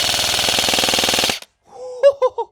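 An airsoft rifle powered by an 11.1 volt LiPo rips through a rapid full-auto burst, a loud fast buzzing stream of shots for over a second that cuts off abruptly, followed by a few faint clicks and short beeps.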